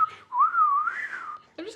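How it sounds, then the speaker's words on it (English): A person whistles a single wavering, sliding melodic line near the mic while facing a bird, the tone rising and falling smoothly for over a second, followed by a brief burst of other sound. "just as I'm whistling and making eye contact with the bird the whole time"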